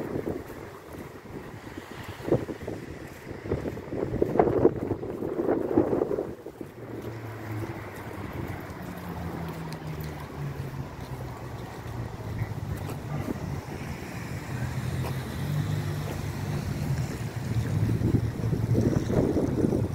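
Steady wind buffets the microphone throughout, a low rushing roar with gusts rising and falling, no voices.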